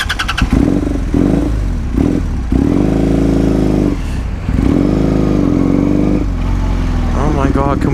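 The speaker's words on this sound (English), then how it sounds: "why does my bike not idle?" A motorcycle engine that will not hold an idle: loud, close, uneven chugging that sputters, surges and drops out repeatedly before catching again.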